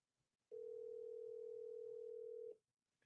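A phone call's ringing tone sounds as one steady, clean two-second tone that starts and stops abruptly against near silence.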